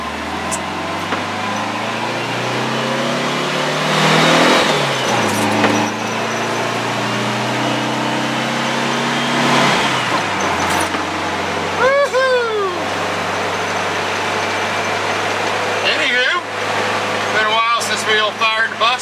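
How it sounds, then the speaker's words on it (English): A car engine, stone cold, idles and revs with a throaty rumble, giving a few sharp popping backfires from a firework-style exhaust; voices speak intermittently over the engine noise. "This goes a little backfire when it's cold like that."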